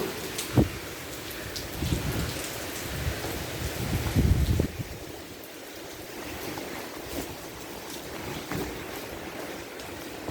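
Steady rain falls throughout, a dense hiss with scattered heavier drops and a louder gusty burst near the start, continuous and close with no voices.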